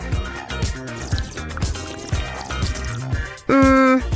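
Cartoon soda pouring into a glass, a bubbly, gurgling liquid stream with fizzing drips under lively background music, ending in a loud sustained tone.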